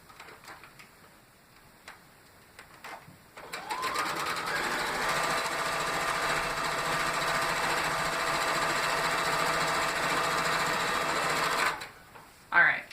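A sewing machine runs steadily for about eight seconds while rag quilt squares are chain pieced. Quiet handling sounds come before it, the motor hum and rapid needle chatter stay loud and continuous, and the machine stops abruptly near the end.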